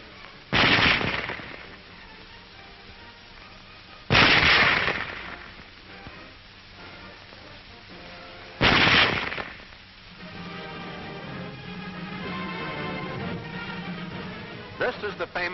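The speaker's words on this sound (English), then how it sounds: "Loading and firing the Model 98K is the same as our own Springfield, with the exception of the sight adjustment." Mauser Model 98K rifle fired three times, each shot a loud sharp crack spaced a few seconds apart, with the bolt worked between shots and someone narrating over the quieter stretches and after the last shot.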